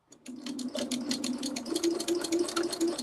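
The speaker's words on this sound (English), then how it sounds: "I can still sew right through it" A sewing machine stitches through a quilt-as-you-go quilt with a close, rapid, even mechanical patter that speeds up into a regular thumping rhythm over a few seconds.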